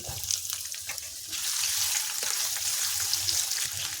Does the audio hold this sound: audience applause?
no